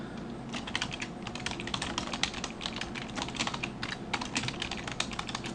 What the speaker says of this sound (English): start typing some words here